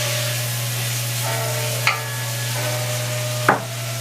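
Pre-seasoned sausage meat frying in a pan, a steady close sizzle with a low constant hum beneath and two brief scraping knocks about halfway through and near the end.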